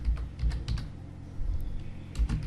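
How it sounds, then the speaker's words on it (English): Fingers tap out a short search on a computer keyboard, producing quick bursts of close, crisp key clicks with brief pauses between words. "So here in the search box just type Salesforce"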